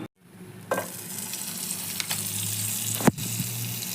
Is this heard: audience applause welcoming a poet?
no